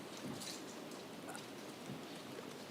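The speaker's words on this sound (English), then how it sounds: "With the rain going on, I can barely hear." Steady rain drums throughout on a surface during a city council meeting, a continuous broadband hiss at even loudness with no talk audible.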